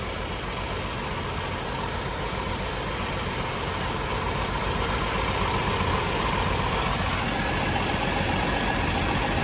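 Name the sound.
Jeep Wrangler YJ engine idling back down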